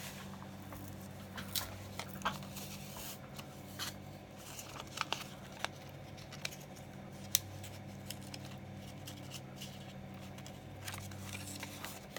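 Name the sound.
scissors cutting out paper for a card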